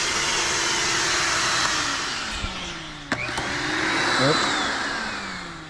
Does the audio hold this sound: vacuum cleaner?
yes